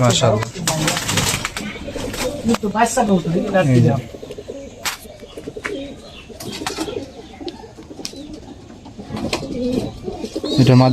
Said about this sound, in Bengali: এটা কবুতরটা দেখেন এটা মাদি